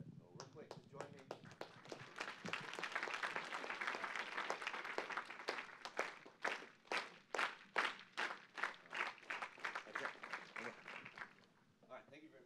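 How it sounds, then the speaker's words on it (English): A roomful of conference attendees claps together in a group exercise at a tech summit: a dense wash of applause settles into loud, synchronized rhythmic claps that speed up, then stop abruptly near the end. "Have you all done the clapping exercise before?"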